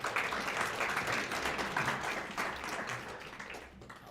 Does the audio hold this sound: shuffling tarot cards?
no